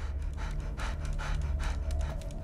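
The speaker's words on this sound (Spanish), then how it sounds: "El perro está ahogando con ese jadeo, macho." A dog pants in the Guardians of the Galaxy video game, with quick breathy bursts repeating in a steady rhythm over a low, constant game hum.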